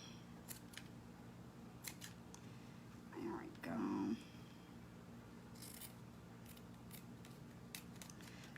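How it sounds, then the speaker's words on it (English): Scissors snip ribbon and raffia on a distressed teal buffalo-check craft Easter bunny, with crisp close cuts spread across the clip. A soft voice murmurs briefly in the middle over a steady low room hum. "Trim these off from the front so that you can see some of the ribbon behind it."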